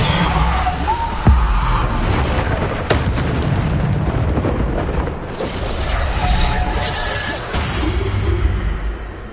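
Repeated magical blasts from the Bombarda spell in the video game Hogwarts Legacy, booming, loud and close, several bursts over a dense rumbling wash of combat noise.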